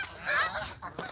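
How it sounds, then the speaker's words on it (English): Geese honk loudly and close by, with overlapping calls from a flock forming a dense cluster of cries that swells and then breaks into a few sharper individual honks. "How did you come here, geese? There's like so many of you."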